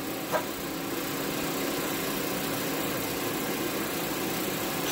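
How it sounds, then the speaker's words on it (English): A Dyna Glo Pro portable heater's blower fan runs steadily, a constant low-mid whirring drone that stays even and unbroken throughout, with a single faint click near the start. "As soon as you plug this up, it sounds like the fan comes on automatically."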